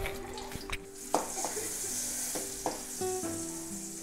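Shallots and dried chilies fry in coconut oil in a kadai, giving a steady close sizzle broken by a few sharp stirring clinks and scrapes, with no talk.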